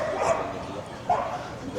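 A small dog gives a few high, sharp yips spaced apart, fairly close, over faint background chatter on a street in Harajuku, Tokyo.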